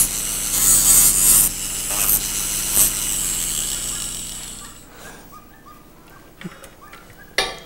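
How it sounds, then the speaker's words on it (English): A loud, steady high-pitched whine of a Foredom rotary tool grinding the end of a bird bone, running continuously before cutting off, followed by a few faint clicks and a sharp knock. "just grind off the edges so that I have a narrow end. And simply do that with the Fordham tool."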